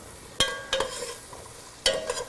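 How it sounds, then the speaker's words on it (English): Chicken cacciatore with garlic is stirred in a pan, three or four quick scraping spoon strokes over a faint sizzle, heard close with no talking. "And we stir it up"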